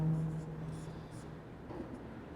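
Writing on a board in a chemistry class, with soft scratchy strokes of chalk or marker over about two seconds against a faint room hum.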